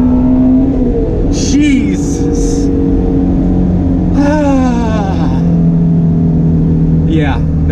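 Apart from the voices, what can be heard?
Ford Shelby GT350 engine revving while accelerating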